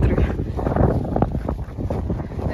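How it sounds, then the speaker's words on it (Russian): Wind buffets a handheld microphone outdoors during a walk with an Akita and a Dalmatian, a steady close rumbling roar that runs through the whole stretch without any clear speech. "Опять, наверное, вы меня плохо слышите, потому что ветер."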